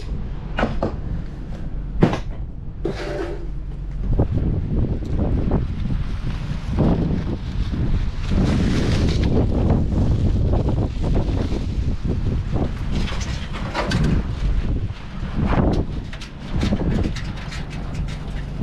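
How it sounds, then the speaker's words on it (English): Strong wind blows steadily outdoors, buffeting the microphone with a deep, roaring rumble and occasional gusts and knocks. "it's now the next day and it is super, super windy out of nowhere"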